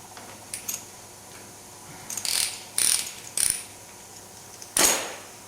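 A wrench ratchets on the final drive drain bolt of a Honda VTX motorcycle, giving a few faint early clicks and then several short, close ratcheting bursts separated by pauses.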